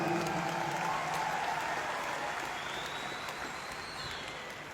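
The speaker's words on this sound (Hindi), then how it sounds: "हमारे एमडी एंड सीईओ श्रीमान संजीव सर के लिए भी एक जोरदार तालियां" Steady, sustained applause from an audience at a company direct-selling event, a dense continuous wash of clapping that slowly fades slightly over several seconds, with no voices on top.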